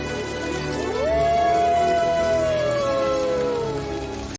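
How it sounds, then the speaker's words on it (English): A single long wolf howl from the animated film Balto rises then slowly falls and fades, heard over a steady background of music. "after they hear a wolf howl."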